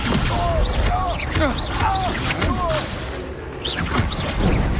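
Fire and explosion spells such as Incendio and Confringo go off in combat in the video game Hogwarts Legacy, giving a dense, loud run of booms and whooshing magic effects, with game voices throughout.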